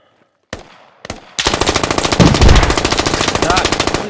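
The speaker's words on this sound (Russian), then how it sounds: "стреляй, пулеметчик" Sustained machine gun fire in the military shooter game Squad, rapid bursts of rounds close and loud after a couple of isolated shots, with teammates' voices faint underneath.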